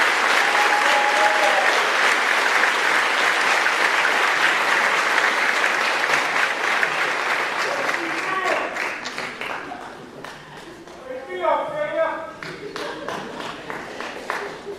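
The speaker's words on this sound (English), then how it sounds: "So let's give our foreign exchange students a huge round of applause and come to the stage." Crowd applause at a senior awards night for foreign exchange students, a steady, dense roar of clapping that thins and softens toward the end while faint voices come through underneath.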